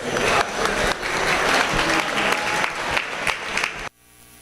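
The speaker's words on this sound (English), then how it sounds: "Let's give him a nice round of applause." A crowd claps steadily in a sustained burst of applause at a beef cattle show, cutting off abruptly near the end.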